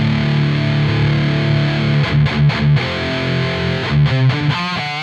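Guitar played through the overdrive channel of a Soldano SLO-100 amp with heavy gain, a sustained distorted chord followed by choppy palm-muted stabs and short rhythmic bursts, loud and close, no talking.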